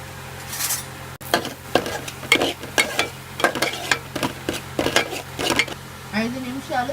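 Rava being fried in a little oil in a pan, with a run of sharp, rhythmic scraping and clinking strokes of a spoon stirring against the metal and a faint sizzle beneath, near and fairly loud, no talking.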